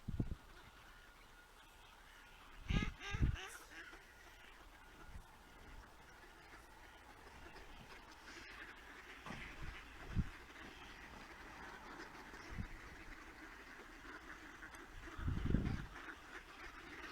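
A flock of ducks gathered in one spot in winter gives scattered quacks and honks, a few louder bursts near the start, middle and end, over a steady outdoor ambience.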